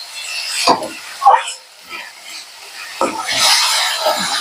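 Spoon scraping and stirring masala in a pan while frying it for Bengali ghugni, a few distinct rasping strokes with pauses between, then a soft sizzle, close and fairly loud.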